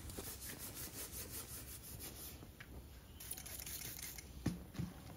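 A Scotch-Brite pad scrubs grime off the metal of a boat trailer, making a steady, close, continuous rasping rub that runs for the whole stretch without a break.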